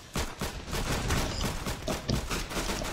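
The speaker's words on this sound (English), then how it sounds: "This rocket launcher is not that good." Rapid bursts of gunfire and explosive weapon blasts from a rocket launcher in the Roblox game Arsenal crackle loudly and continuously, overlapping in a dense, chaotic volley.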